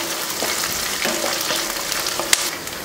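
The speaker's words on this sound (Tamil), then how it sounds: "லைட்டா வெங்காயம் வதங்கிக்கிட்டா போதும் ரொம்ப கருகிற அளவுக்கு வதங்க தேவையில்லை" Onions and chana dal fry in a pan with a steady, close sizzle, broken by a few light stirring scrapes and one sharp tap near the end, with no voices.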